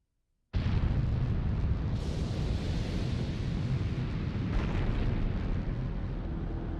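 A huge, sustained explosive roar bursts in after a brief silence and rumbles on loud and dense for several seconds, a deep broadband blast with a brighter surge partway through.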